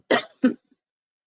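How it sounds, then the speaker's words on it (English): Two quick, close coughs in succession, sharp and loud, followed by silence. "I'm sorry. I had a cough."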